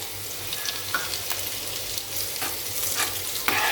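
A tempering of garlic in hot oil sizzles as red chilli powder goes in, the flame already off, a close crackling hiss with a few sharp spoon clinks and stirs, no voices.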